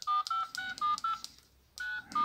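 Keypad buttons on a mobile phone beep in a quick series of short, clear tones, about six presses with a brief pause before two more, close and alone with no voices.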